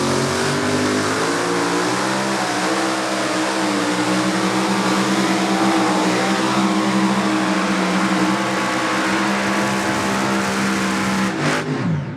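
Super modified pulling tractor engine at a Pro Pulling event in Hillsboro, Wisconsin, roaring loud and close in a sustained high-revving drone during a pull, cutting off abruptly near the end.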